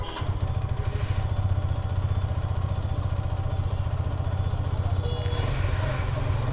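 A Hero Karizma XMR motorcycle engine running with a steady, rapid low-pitched throb, close and loud throughout, with faint clatter on top.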